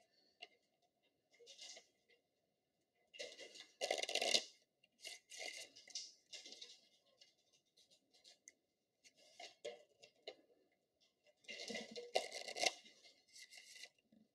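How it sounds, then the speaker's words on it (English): A regular 52-card deck is shuffled close up in a classroom, with bursts of crisp riffling and flicking clatter separated by brief quiet pauses, faint and without talk. "So shuffle them a couple times,"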